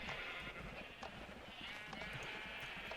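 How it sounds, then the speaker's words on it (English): Sheep bleating in the video game Minecraft, several overlapping calls at moderate level over a steady bed of background game ambience, with no talk. "There's a sheep down here."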